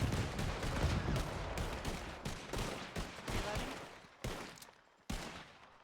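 Heavy volleys of gunfire in the roleplay game Wild RP, dense overlapping shots rolling continuously and loud, then thinning into a few sharp isolated cracks near the end.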